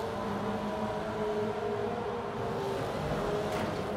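A Toyota Celica ST205 engine in Forza Horizon 4 hums and drones steadily with a hollow, reverberant tone echoing off tunnel walls, continuous and moderately loud.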